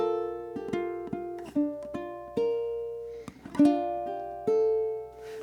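Guitar plucking a single syncopated bar of notes and chords, with uneven accented attacks and ringing sustains, clear and close with no talking.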